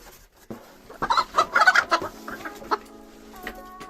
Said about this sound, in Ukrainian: Ось півник